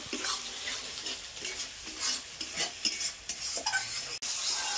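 Spice paste with tomato and sugar being stirred and fried in a pan for a prawn malai curry, with a steady sizzle under repeated scraping strokes of a spoon, fairly quiet and close.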